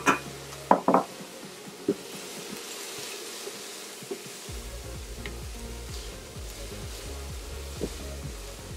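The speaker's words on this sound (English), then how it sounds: "I'm gonna go ahead and throw in our carrots" Carrots are tossed into a cooking pan for savory steel cut oatmeal: a few sharp clattering hits and scrapes up front, then a low steady sizzle with faint stirring.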